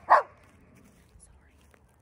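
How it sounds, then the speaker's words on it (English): A single short, close dog bark at the start, then quiet background with faint rustling. "It's gonna bark."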